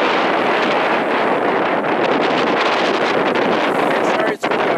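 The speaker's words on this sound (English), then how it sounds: "Sorry it's windy out here," Loud, steady wind buffeting the microphone throughout, a continuous roaring rumble with a brief dip near the end.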